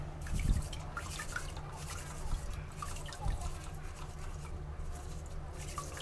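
Fresh duck eggs scrubbed clean with a scouring pad, a soft continuous wet rubbing with faint drips and light knocks, close and fairly quiet, with no talk.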